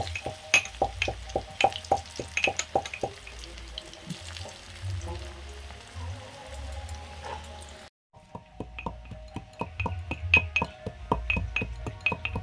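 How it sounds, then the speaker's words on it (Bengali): Potatoes frying in a pan make a soft, steady sizzle, broken by a run of sharp scraping and tapping knocks as they are stirred, fairly quiet and close. "এবার আলুগুলো ভেজে নিচ্ছি।"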